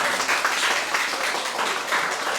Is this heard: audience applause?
yes